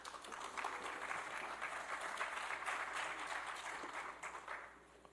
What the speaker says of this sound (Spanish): Recibimos con palmas.